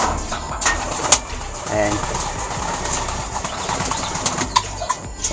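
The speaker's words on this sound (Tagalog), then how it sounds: "Naghiwa-hiwalay ko muna sila mga Lodi Kalapati." Domestic pigeons kept in an elevated loft, cooing softly in a low, repeated murmur amid scattered bird calls and some flapping, with someone speaking over them throughout.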